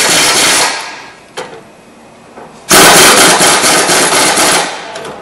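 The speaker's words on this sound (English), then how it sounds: "we're going to try taking it off with some air first and see if we can get it to pop off" A pneumatic air impact wrench tries to break loose a nut during front-end noise diagnosis, firing a loud, close rattling burst, then a quieter gap with a few knocks, then a longer sustained hammering run.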